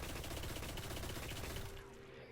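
Rapid automatic weapon fire in the video game Destiny, a fast continuous burst of shots that stops abruptly near the end, heard up close.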